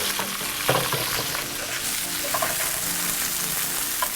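Rib eye steaks searing in a hot pan with garlic, a loud, close, continuous sizzle and crackle with occasional brief pops, no voices over it.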